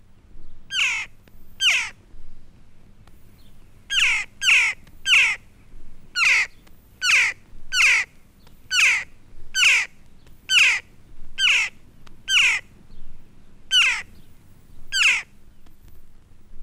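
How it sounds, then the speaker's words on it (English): A single young jackdaw gives sharp, repeated chack-like cries in an irregular series, clear and close against a quiet background hum in woodland. "The cry of a single young jackdaw is often the most familiar of July woodland sounds."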